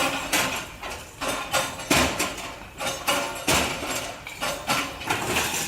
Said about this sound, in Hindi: लोगों ने भी खुद अपना अतिक्रमण हटाया, हथौड़ा अपने अवैध निर्माणों पर चलाया